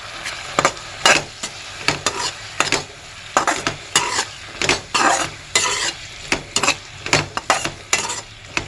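Onion and capsicum sizzle in a pan while a spoon stirs them, each scrape sounding as a sharp, near, rhythmic clatter over a steady frying hiss.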